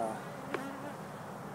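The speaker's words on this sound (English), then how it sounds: "They're very, very nice bees, very gentle." Gentle honey bees hum steadily around a nuc hive during installation, a soft continuous buzz close by with one brief louder pass of a single bee.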